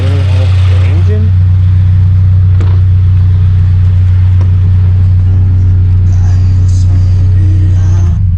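A Subaru BRZ engine idles with a steady, loud low hum that stays constant throughout, while a person speaks briefly over it.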